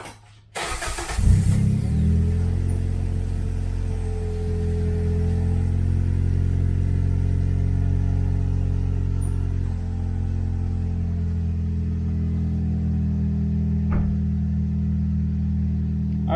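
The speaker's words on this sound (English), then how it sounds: "Let's give the car a start up." A turbo Toyota Corolla fitted with a cold air intake starts with a brief crank, catches into a rising rev, then settles into a steady, fairly loud idle rumble that continues alone.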